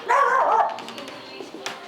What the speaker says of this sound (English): if you hear any barking in the background, don't be surprised